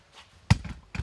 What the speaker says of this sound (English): see if I can hammer it